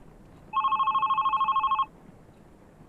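Telephone ringing in the indie horror video game Love, Sam: a steady electronic double-tone ring pulsing rapidly for just over a second, clear and fairly loud over a faint low background hiss.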